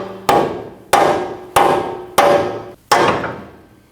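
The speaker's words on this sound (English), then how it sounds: "you want to tap your knuckle with a rubber hammer to separate your tie rod from your knuckle." Five sharp, solid blows of a rubber hammer strike a 2012-2021 Nissan NV2500's steering knuckle at a steady pace, freeing the tie rod, each ringing briefly before fading.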